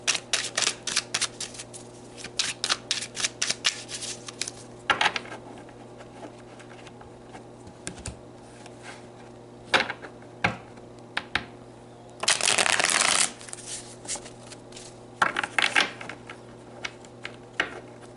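Tarot cards shuffled by hand at close range in a quiet room, giving rapid papery clicking bursts in uneven runs, with one longer dense riffle near the end.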